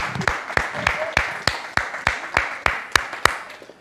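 Sharp, evenly paced hand claps ring out, roughly a dozen crisp strikes about a third of a second apart, as a round of applause for a winner, close and clear with a faint voice in the background.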